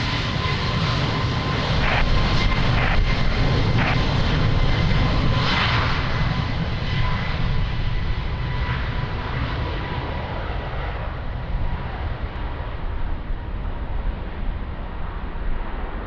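A fixed-wing aircraft takes off at Lisbon Airport on a windy day, its engines roaring loudly and steadily before slowly fading into a broad rumble as it climbs away.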